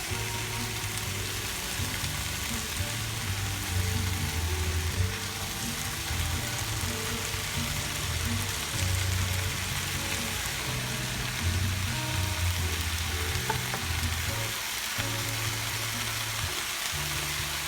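Cheese melts over Philly steak in a hot pan, a steady close sizzle running evenly throughout with a faint low hum underneath.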